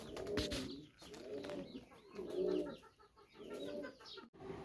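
Pet pigeons of breeds such as Sirazi and Lahori, kept for sale, coo in soft, repeated rolling calls at close range, with faint clucking mixed in and no talk.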